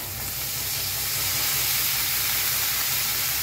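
Washed cabbage hits hot oil with turmeric, giving a loud, steady, close sizzle that swells at first and then holds at a constant hiss.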